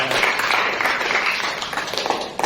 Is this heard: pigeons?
no